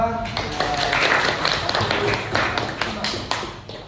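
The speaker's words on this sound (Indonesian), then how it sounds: "Tepuk tangan untuk kita semua." Hand clapping in a classroom session, a burst of claps with uneven taps that fade and return, heard close among the room's noise.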